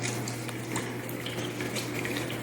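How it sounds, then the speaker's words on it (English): Water trickles and bubbles steadily as it fills the carbon media chamber of an aquarium reactor. A low constant pump hum runs beneath it, and the sound is quiet and close with no talk. "the chamber for the carbon is starting to get filled up with water"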